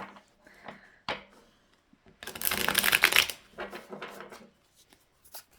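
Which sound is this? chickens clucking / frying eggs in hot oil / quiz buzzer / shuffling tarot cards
shuffling tarot cards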